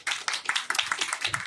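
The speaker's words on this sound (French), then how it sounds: "Vous pouvez aussi applaudir si vous voulez." Audience clapping at a live podcast recording in a conference venue, a brief burst of many hands applauding together, close and fairly steady, with no talk over it.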